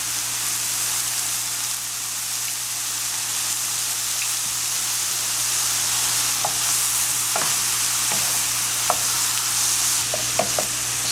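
Mushrooms and onions with soy sauce sauté in a pan over low to medium heat, giving a steady close sizzle with scattered soft clicks and taps from stirring.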